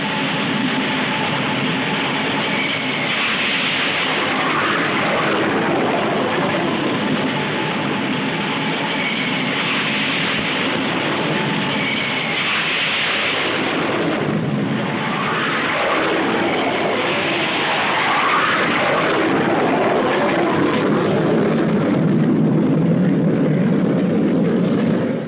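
Navy carrier jets, fighters and attack aircraft of 1967, roar past in a sustained, loud broadband rush that swells and fades in overlapping waves, with no voices.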